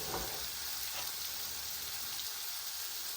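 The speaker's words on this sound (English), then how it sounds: "now I'm going to add more spices for the curry" Spices go into a pineapple curry (pineapple gojju) that sizzles in the pan with a steady, faint, hissing crackle that is fairly even and holds throughout, with no talking.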